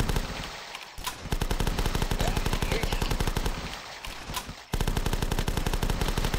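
Rapid automatic gunfire from The Last Stand video game, loud sustained bursts of evenly spaced shots with two short pauses, no voices over it.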